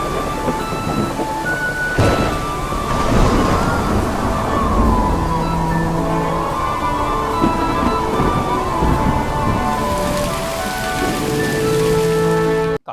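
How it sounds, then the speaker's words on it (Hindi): Heavy rain pours steadily during a storm, a dense loud hiss of downpour with low thunder rumbling beneath it, continuous and close, with no voices. "काफी बारिश होती है वहां पे।"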